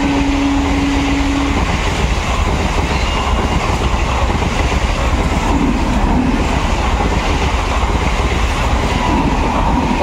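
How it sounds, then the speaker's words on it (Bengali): The Sealdah-Lalgola passenger train runs past after leaving Murshidabad station, a loud, continuous rumble and clatter of wagons close at hand, with a brief horn-like tone at the start. "Sealdah Lalgola passenger Murshidabad rail station ছেড়ে লালগোলার উদ্দেশ্যে ছুটছে দেখতেই পাচ্ছেন"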